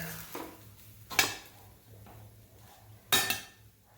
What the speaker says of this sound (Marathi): आपण आता तो प्लेटमध्ये काढून घेऊ